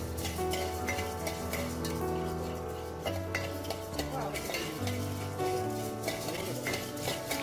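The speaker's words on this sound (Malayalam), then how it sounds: "ഈ ഒരു മല്ലിയും കുരുമുളകും ഇതേപോലെ ഒന്ന് നന്നായി ഒന്ന് ഒരു ചുവന്ന കളർ വരുന്നത് വരെ ഒന്ന് വഴറ്റിയെടുക്കാം" Coriander seeds and black pepper are sautéed in a pan, giving a steady close sizzle under continuous scraping and stirring against the metal, with a low background hum and no talking.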